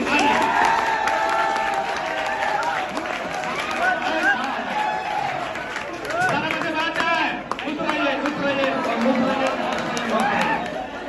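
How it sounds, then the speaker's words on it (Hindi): A crowd claps and cheers for Anil Babu at a gathering at a science coaching institute in Mirganj, with the applause running under chatter and talking voices throughout. "चलिए जोरदार ताली अनिल बाबू के लिए"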